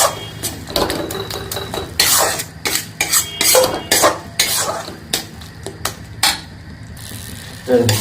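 Mixed vegetables with a pinch of Kashmiri methi are stirred in a metal pan, bringing repeated close scraping and clattering strokes of a spatula in an uneven rhythm over a faint sizzle.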